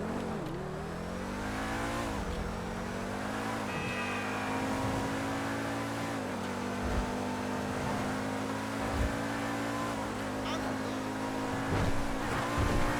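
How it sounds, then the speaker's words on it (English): A new DLC car in GTA 5 Online with a race-car engine note revs steadily up and down, with audible gear shifts and rising pitch sweeps, a continuous loud mechanical drone with no voices. "It sounds like a race car versus like a sports car."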